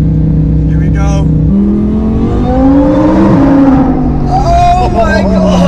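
A Lamborghini Huracán accelerates hard in a roll race against a Huracán Performante, its engine note climbing steadily through the gears with a shift near the midpoint. The roar is loud and continuous inside the car, with excited voices over it.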